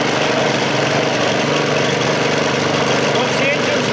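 A Weedtechnics hot water weed control machine's engine runs at a steady idle, a continuous, fairly loud mechanical drone with no breaks, while a voice talks over it.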